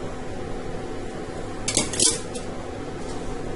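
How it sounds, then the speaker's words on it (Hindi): A spoon mixes desi ghee into a cashew mixture for kaju katli in a metal pan, with soft scraping and a couple of sharp clinks of metal on metal close by. "इसे भी हम अच्छे से मिक्स कर लेंगे।"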